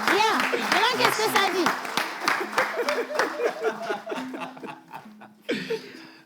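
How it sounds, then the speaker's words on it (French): An audience at a gathering claps for a girl named Bella, scattered applause mixed with laughter and chuckles, tapering off into intermittent claps and someone talking over it. "On va applaudir Bella, on va la raccompagner à sa place."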